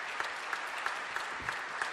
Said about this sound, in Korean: 오늘의 주인공이신 19분의 목사님들께 다시 한번 축하의 박수를 하겠습니다.